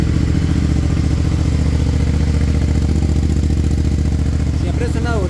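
A 450 MT motorcycle engine runs at a steady idle close to the microphone, a continuous low, throbbing mechanical rumble with a light clattery texture that holds an even level throughout.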